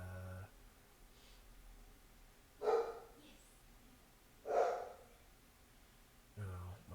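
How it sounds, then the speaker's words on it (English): A pet dog barks twice from another room, each bark a single muffled woof a couple of seconds apart, with a voice briefly heard at the start and end. "Oh, my dog is barking."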